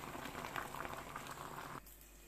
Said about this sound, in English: I have boiled my garden egg